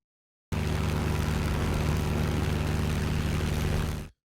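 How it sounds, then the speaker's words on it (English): A steady propeller aircraft engine drone from the virtual reality flight game UltraWings, a continuous droning hum heard alone for about three and a half seconds before cutting off abruptly. "I hope you like engine sounds, because that sound you will hear a lot in this game."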